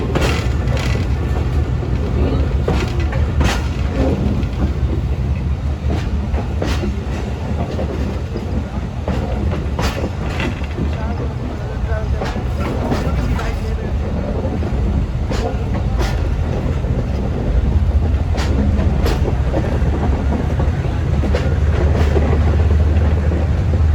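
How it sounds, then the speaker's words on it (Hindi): The Khushal Khan Khattak Express rounds a curve with a loud, steady rumble of old coaches, overlaid by repeated clickety-clack wheel beats on the rails, heard from on board. "अब मोड़ काट रही है ट्रेन"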